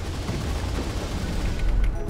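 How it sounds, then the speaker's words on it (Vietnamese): Rapid video-game gunfire from Roblox King Legacy, a dense, continuous burst of shots with booming low end that runs steadily for about two seconds without talk. "Tiếp tục bắn súng nè."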